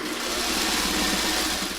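A sewing machine runs steadily while stitching a seam across the top of a quilted Y-seam block, producing a continuous close whirring drone with no pauses and no talk.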